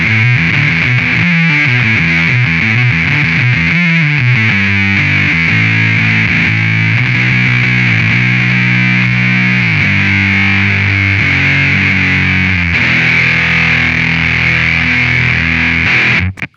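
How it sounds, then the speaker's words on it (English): A fuzzed guitar through a Mastro Valvola OFF1 octave fuzz filter pedal set for a cocked-wah tone: a dense, nasal, distorted wall of notes with a fixed, honky midrange peak, played continuously and loud for the whole stretch. "And you can get some kind of like cocktaw type sounds like this."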